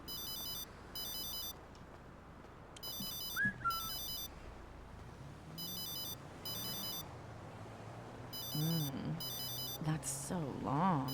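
A phone rings repeatedly in a video game roleplay, with an electronic ringtone sounding in regular paired bursts over steady background noise and occasional voices.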